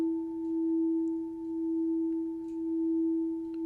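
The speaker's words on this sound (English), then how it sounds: "the sound of the bowl" A steady, pure ringing tone of a singing bowl hums on without break, slowly swelling and fading in gentle waves, sustaining in a quiet room.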